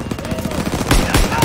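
Rapid automatic gunfire in a Call of Duty: WW2 battle, bursts of sharp shots crackling over a busy war soundscape, with heavier, louder volleys near the end.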